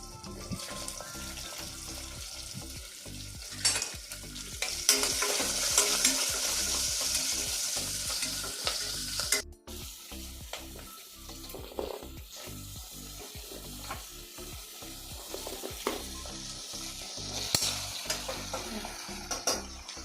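Onions, green chillies and curry leaves for sambar fry in a pan with a loud, continuous sizzle and crackle, broken by frequent scraping stirs throughout.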